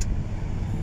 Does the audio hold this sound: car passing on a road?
yes